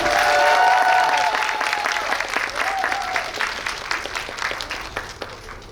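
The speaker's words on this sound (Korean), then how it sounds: "큰 박수 부탁드립니다." A cinema audience at a Megabox COEX guest visit event gives loud applause as guests walk in, the clapping building at first and then thinning, with a few voices and cheers mixed in.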